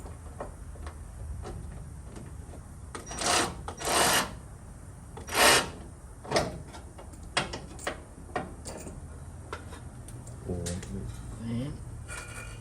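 Ratchet wrench tightening a bolt on the battery tray of a VH Valiant Charger under restoration, in a cramped space; a few short bursts of clicking and rasping, close, with quiet talk between them.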